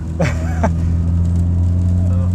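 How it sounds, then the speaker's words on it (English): Close, steady engine drone inside an R53 Mini Cooper S with a high supercharger whine layered over it, while a person talks briefly at the start. "you can hear the supercharger whine"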